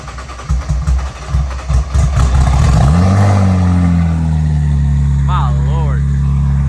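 A 2000-horsepower Nissan GT-R engine pulls hard with a rising, loud drone that settles into a steady high-speed roar, with people talking over it.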